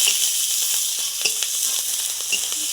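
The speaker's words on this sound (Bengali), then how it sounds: "এবার পেঁয়াজ কাঁচা লঙ্কাটা তেলে দিয়ে দিলাম" Onion and green chilies hiss and sizzle steadily in hot oil in a pan, a loud close frying crackle with faint stirring clicks.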